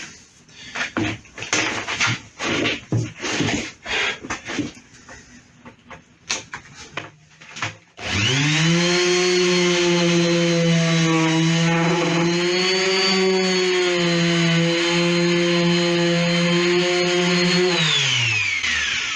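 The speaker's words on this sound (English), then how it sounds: "use one of these. A random orbital sander." A random orbital sander smoothing a glued-up wooden electric guitar body: about eight seconds of clattering handling noises, then a loud, steady motor whine that runs for around ten seconds before cutting off.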